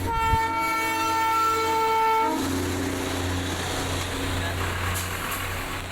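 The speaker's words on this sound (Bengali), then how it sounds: "টয় ট্রেন দেখতে পাচ্ছি আমরা" A Darjeeling toy train passes close by on a rainy day, sounding a loud, sustained horn for about two seconds before the steady roar and rumble of the moving cars carries on to the end.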